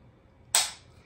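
A single sharp trigger click from a Ruger PC Charger pistol, a crisp close snap that rises out of quiet room noise and fades quickly.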